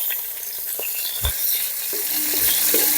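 Pork pieces for an Angamaly-style fry sizzle in their own rendered fat, a steady close crackle with sharp spatters and a stirring scrape partway through.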